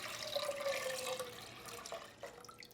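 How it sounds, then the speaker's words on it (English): Water pours steadily into a pan set on a stovetop, a continuous splashing stream that fills the first part and then thins to trickles and a few faint drips. "I'm going to add 6 cups of water"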